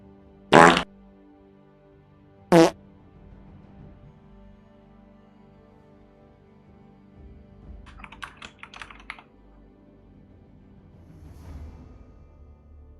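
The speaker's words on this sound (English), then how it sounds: "Okay, I added new fart for you guys." Two short, loud fart sound effects pop out over a quiet background, followed later by a burst of light keyboard typing.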